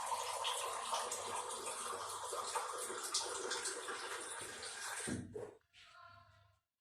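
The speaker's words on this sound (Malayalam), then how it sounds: "ഇനി അതിലേക്ക് 1/2 ഗ്ലാസ് വെള്ളം ഒഴിച്ചു കൊടുത്തിട്ടുണ്ട്." Water is poured onto soaked rice and grated coconut in a grinder jar for neer dosa batter, a continuous splashing trickle that stops abruptly near the end and leaves a brief faint sound.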